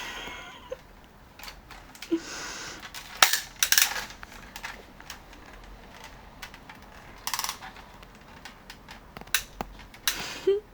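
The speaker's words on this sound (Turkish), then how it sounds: "silah deniyoruz" Toy cap gun fired indoors, several sharp snapping cracks spread irregularly among small clicks and handling noises, close by, with no talk during the shots.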